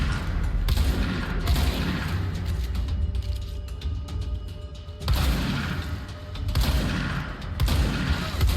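Enemies firing guns in the game Control, with repeated loud bursts of shooting separated by brief quieter stretches and a steady rumbling game backdrop.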